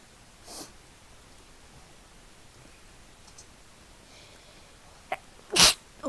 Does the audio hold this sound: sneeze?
yes